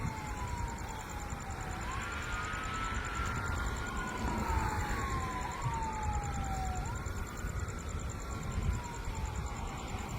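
A police siren wails in repeated rising and falling sweeps, steady and moderately distant, over heavy rumbling traffic and outdoor noise, with no clear talk.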